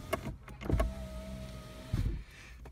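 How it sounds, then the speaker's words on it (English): A car's electric power window closing: a short thump, then a steady motor whine for about a second, ending in a firm stop thud, heard close and alone. "just closing the window, I had people walking by there"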